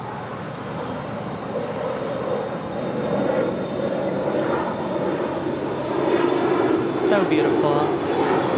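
An airliner on Air Tahiti Nui Flight 7 from Paris arrives at LAX, a steady engine roar swelling slightly toward the end while a person speaks briefly over it.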